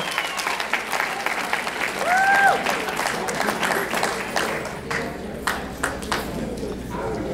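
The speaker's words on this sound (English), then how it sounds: "let's give him a big round of applause" Guests applaud the groom at a wedding reception, a sustained burst of clapping filling the room for several seconds, with a brief ringing tone and scattered voices mixed in.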